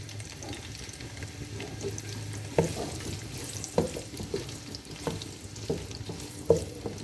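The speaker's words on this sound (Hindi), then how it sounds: "ये प्याज हम इसमें डाल के अच्छी तरह से पहले फ्राई कर लेंगे।" Onions frying in a cup of oil in a pot for chicken biryani, a low, steady sizzle with occasional spoon knocks against the pot at irregular intervals, without any talking.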